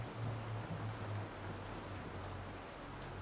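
Steady rain hisses evenly in a video game, a soft constant wash under a low humming tone that wavers early on.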